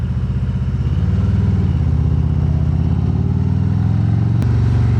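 A 2020 Harley-Davidson Road Glide Special V-twin rumbles steadily while being ridden, a loud, close, low throbbing engine note with wind noise, holding a constant pace with a brief click near the end.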